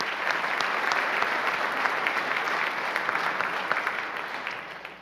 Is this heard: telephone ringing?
no